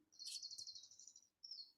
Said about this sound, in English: you hear this other really loud one. It's going to be in the presentation too. It's called a California towhee.